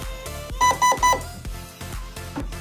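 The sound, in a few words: electronic airsoft gun beeping when battery is connected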